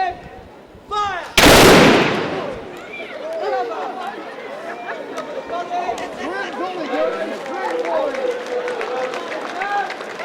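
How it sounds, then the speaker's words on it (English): Civil War reenactors at an event in Wigan fire a single sharp, loud musket volley. The crack is followed by crowd chatter and a loud voice talking over the scene. "Musketeers firing off."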